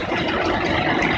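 A New Holland 3230 tractor drives past close by, its engine giving a steady, loud, dense rumble with no break for the whole moment and no voices.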